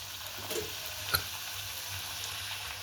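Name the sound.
puri frying in hot oil in a wok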